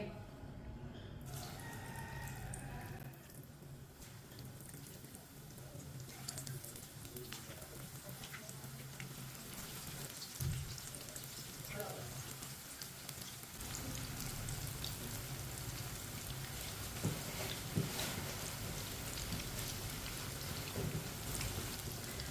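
Pakora batter paste spooned into well-heated cooking oil sizzles with a steady, dense crackling hiss that runs continuously, with small pops rising now and then.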